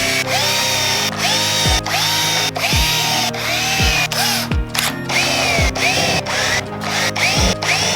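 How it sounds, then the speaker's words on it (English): A power drill drilling pilot holes for mounting amplifiers in a Camaro whirs in repeated short bursts, revving up and winding down about once a second, loud and close with mechanical clicks. "drill all our pilot holes"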